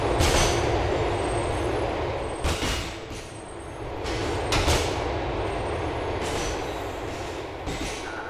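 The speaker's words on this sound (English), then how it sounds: "The train approaching is the 3 train, bound for Shuttler Station." A subway train rumbles into a station in the video game Grand Theft Auto IV, with steady rolling wheel noise, squeals and brake hiss filling the scene at a moderate distance.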